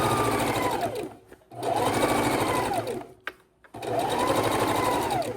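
A sewing machine stitches around the neck of a bib, running in three loud, steady bursts of fast whirring with short pauses between them. It sounds close, with no speech over the motor.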